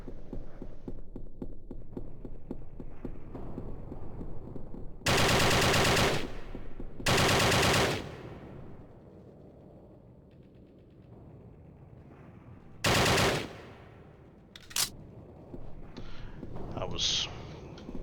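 Assault rifle fire in the Hidden & Dangerous Deluxe World War II game, with loud bursts of automatic gunfire sounding in several separate volleys over a low, steady background hum.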